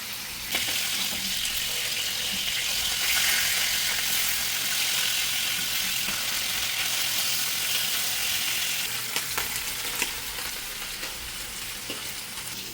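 Hilsa fish sizzling steadily in a large wok of hot oil, a loud continuous crackle with occasional pops and a few faint clinks, no talking.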